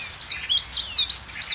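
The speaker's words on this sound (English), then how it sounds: "This is the call of the chiff chaff." A chiffchaff sings a clear, close series of bright repeated chirping notes in a quick, even rhythm, with no voices.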